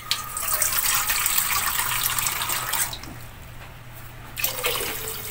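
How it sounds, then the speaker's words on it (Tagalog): Water pouring into a cooking pot for macaroni soup with vegetables, a loud steady splashing gush that drops off, pauses briefly, then resumes near the end with no talk. "depende yan guys sa dami ng tubig na gusto nyo ilagay"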